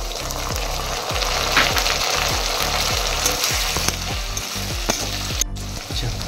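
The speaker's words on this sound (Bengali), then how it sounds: "পেঁয়াজটা এবার প্রায় ভাজা হয়ে এসছে। এবার আমি যেটা দিয়ে দেবো টমেটো।" Onion frying in a pan with whole cumin as tomato goes in, a loud close hiss and crackle over a rhythmic low scraping stir that repeats steadily throughout.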